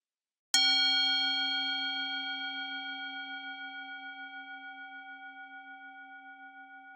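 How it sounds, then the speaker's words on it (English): A meditation bell struck once, giving a clean bright strike followed by a long, pure, slowly fading ring with a gentle pulsing shimmer, alone in silence. "Let the bell be a reminder to come back to your practice"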